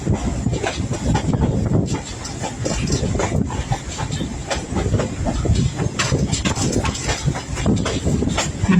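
A passenger train rolling through farmland, a steady loud rumble with rhythmic clickety-clack and hiss heard from on board, continuous throughout.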